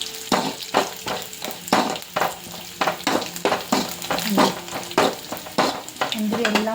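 Raisins fry until brown in a pan for a chickpea payasam, giving a steady sizzle broken by repeated stirring scrapes and clinks, close and fairly loud, with no talk.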